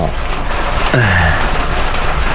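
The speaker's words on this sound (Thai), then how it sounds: "ฝนตกนะครับ" Rain falls during an outdoor morning run, a steady broadband patter close around, with a short low voice-like sound briefly over it.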